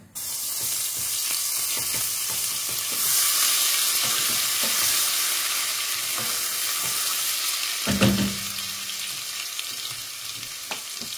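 Garlic fries in hot vegetable oil with a loud, continuous crackling sizzle up close, a few light stirring scrapes, and a brief thump partway through.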